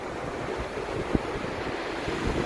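Sea waves breaking against the stone sea defences on Dymchurch beach in Kent, a steady surf wash with wind noise buffeting the microphone and one brief sharper splash partway through, no voices.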